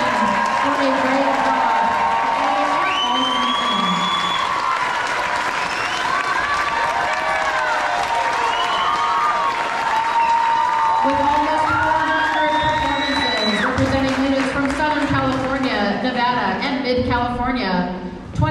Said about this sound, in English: give them a huge round of applause and appreciation